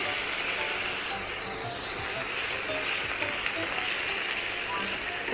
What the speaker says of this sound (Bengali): এটার সাথে আমি কেটে রাখা টমেটো কিউব করা আমি এটা দিয়ে দিচ্ছি।